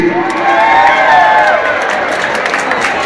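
An audience at a live music show claps and cheers for a musician and singer, a loud crowd roar with whoops and shouted voices over steady applause.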